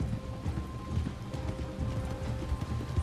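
Horse hooves clopping at a steady walking pace in the video game Red Dead Redemption 2, close and moderately loud, with no talk over them.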